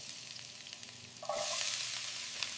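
Seafood sizzles in butter and garlic in a pan, a steady frying hiss that swells suddenly louder partway through and then holds strong to the end, with no voices.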